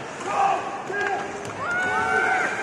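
A crowd at a women's college hockey semifinal, Ohio State against Clarkson, reacts to a play with a steady, moderately loud roar and cheers that swell and hold across the arena.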